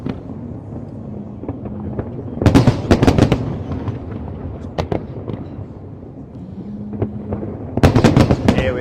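A Chinese Lunar New Year fireworks display in Hong Kong crackles and booms in bursts, with clusters of sharp loud bangs separated by quieter stretches of distant popping and rumbling.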